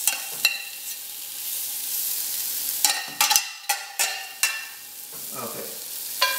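Cooked potatoes go onto a very hot rack and sizzle loudly, a steady bright hiss punctuated by several sharp scrapes and clatters as they are placed and moved, with no talking.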